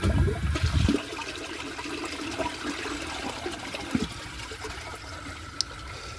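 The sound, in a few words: toilet tank water emptying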